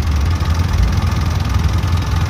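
A jeepney engine idles steadily with a loud, continuous low rumble and no break, while the vehicle's alternator charging problem is being checked.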